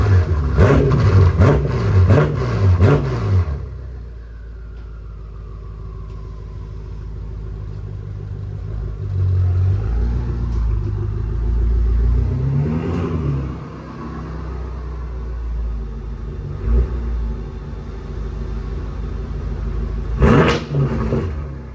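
A BMW F10 M5 with Turner muffler deletes starts with a few loud revving blips, then settles into a deep, steady rumbling idle as it warms up, with another brief rev near the end.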